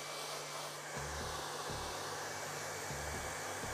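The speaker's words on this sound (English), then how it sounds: "just turn your hairdryer onto cold and just give them a little blast with cool air for about a minute or so" Hair dryer blowing on a cool setting to set styled hair, a steady airy whoosh with a low motor hum that pulses on and off in short bursts, fairly quiet and with no talking.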